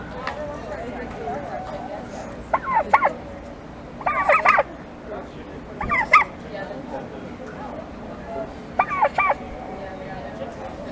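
Turkeys at a poultry show gobble in several short, loud bursts spaced a few seconds apart, with people talking quietly in the background.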